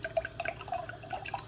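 Vegan almond-milk Baileys is poured over ice, a soft trickle with faint clinks and drips, quiet and close.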